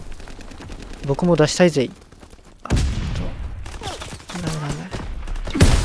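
Combat shotgun blasts in Call of Duty: WWII, a cluster of loud gunfire bursts in two bouts amid game noise, with someone talking over them.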